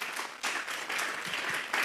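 Congregation at a church praise service breaks into a hearty round of applause, dense clapping in surging waves that fill the room.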